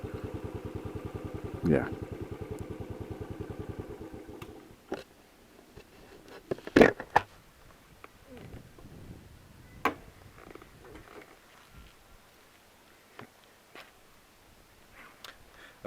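A 2017 Royal Enfield 500 Classic Battle Green ABS single-cylinder engine idles with a steady, even thump for about four seconds, then cuts out, leaving sparse clicks and a brief spoken word.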